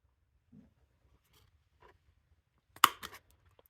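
A hole punch goes through a paper bookmark in a single sharp, crisp snap, followed by a couple of smaller clicks in an otherwise quiet room.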